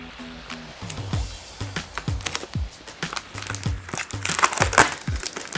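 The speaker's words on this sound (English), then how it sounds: "And now let's put a lot of tape" Tape pulled and pressed onto a cardboard airplane, a run of crinkling, sticky rips and taps in an uneven rhythm, close and fairly loud, with no talk.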